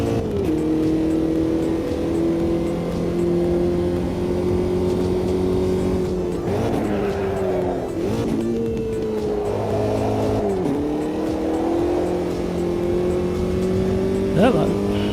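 A race car engine in Automobilista 2 drones steadily and loudly the whole time, dipping and rising in pitch as the car brakes and accelerates through corners, with a person talking over it.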